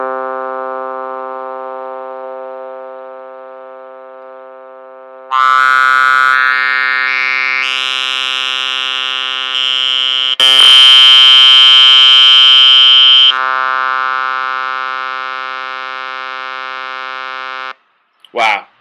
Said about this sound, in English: when you tweak up the resonance a lot, you get a really squealing sound